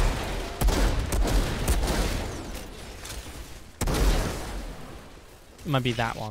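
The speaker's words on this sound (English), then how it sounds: "My gun makes a lovely sound, you have to admit." Gunfire from the player's weapon in the shooter game Outriders erupts in loud, rapid bursts with sharp onsets, pausing once and then firing again; a voice speaks over the end.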